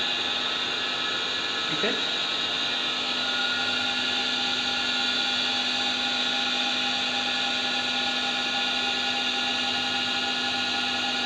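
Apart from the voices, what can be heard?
electric motor running on a star delta starter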